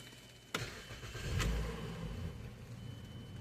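A car engine with newly fitted bolts starts up: a sharp click and crank, then it catches and settles into a steady low idle that rumbles on alone.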